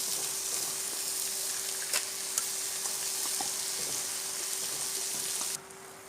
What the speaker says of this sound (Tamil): பாஸ்தா போட்டதுக்கப்புறம் வந்து லைட்டாக மேலேயும் கீழேயுமா நல்லா கிளறி விட்டுக்கோங்க